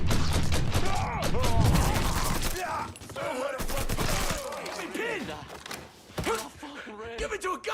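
Dense gunfire rattles through a shootout in the video game Mafia, with rapid volleys and thuds under shouting voices for most of the stretch.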